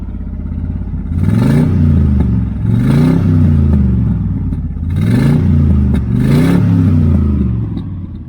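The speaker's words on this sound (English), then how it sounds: "Left side pipe sounds a little different than the right" A 1968 Chevelle engine with side pipe exhausts revs loudly and up close in four rising bursts, each climbing then settling back to a lumpy idle between pulls.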